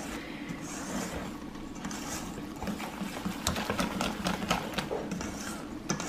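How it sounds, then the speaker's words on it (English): A whisk beaten hard through Dutch baby batter as all-purpose flour and salt are worked in, a fast, continuous close-up clatter and scrape against the bowl over a steady background rumble, with no one speaking. "And now you want to whisk it vigorously again."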